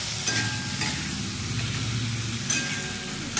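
Tomatoes tipped into a hot pan for a Maharashtrian tomato chutney and stirred, giving a steady close sizzle with a few scraping stir strokes and bumps, no voices.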